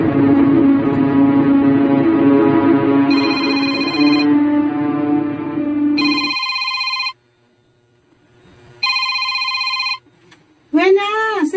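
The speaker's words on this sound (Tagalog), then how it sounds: "Wena, cellphone mo, may tumawag." A cellphone ringtone plays in loud repeated bursts of bright electronic tones, cutting in over a steady droning background, with a brief gap of near silence before it resumes and ends in a warbling chirp.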